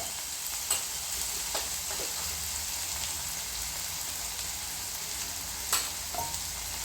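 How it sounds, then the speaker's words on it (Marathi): Turmeric fried in hot oil while making stuffed brinjal bharit: a steady, close sizzle runs throughout, with a few brief stirring scrapes and clinks rising above it. "हळदीला सुद्धा तेलामध्ये छान असं परतून घ्यायचं"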